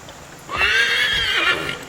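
A horse in the video game Assassin's Creed III gives a loud, close whinny that lasts over a second, with faint hoofbeats beneath it and no voices.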